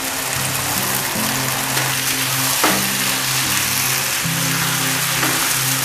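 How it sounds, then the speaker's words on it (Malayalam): Fried cauliflower pieces hit a hot pan for Gobi Manchurian, setting off a loud, steady sizzle with crackling spits and a faint tonal hum underneath, no voices. "ഇതിൽ നമുക്ക് ഫ്രൈ ചെയ്ത് വെച്ചിരിക്കുന്ന നമ്മുടെ കോളിഫ്ലവർ ഇതിലേക്ക് ഇട്ട് കൊടുക്കാം"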